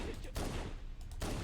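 Alien weapon fire in the video game Halo CE, with dense bursts of loud, close shots broken by two brief gaps.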